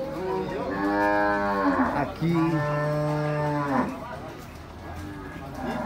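Dairy cows lowing at a livestock market, two long drawn-out moos back to back, loud and close, with a voice speaking briefly.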